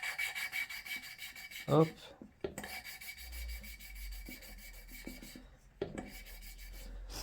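Engine valve being lapped into its cylinder head seat with coarse grinding compound, giving a steady gritty scraping rub that runs in close repeated strokes, with one short spoken word near the start.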